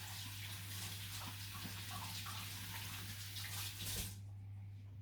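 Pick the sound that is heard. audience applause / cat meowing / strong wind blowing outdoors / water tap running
water tap running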